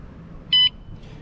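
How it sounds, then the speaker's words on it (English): A single short electronic beep from an aftermarket alarm on an Aniioki AQ 177 Pro Max electric bike, high-pitched and clear, rising briefly over a quiet background hum. "It's got an alarm, which I'll show you here. You'll hear it beep again."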